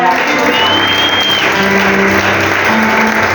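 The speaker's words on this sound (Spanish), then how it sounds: "Brindale un fuerte aplauso al Señor." Church congregation applauding as their apostle is called up, a steady, loud wash of clapping that holds evenly throughout, with voices and music tones faintly underneath.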